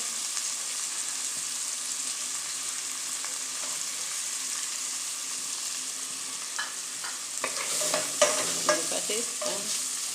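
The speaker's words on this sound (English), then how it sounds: "And the stirring." Onion, garlic, scallion and thyme stirred in a pot for a Jamaican one-pot meal, a steady close sizzle with scraping stir strokes growing busier toward the end, no talk.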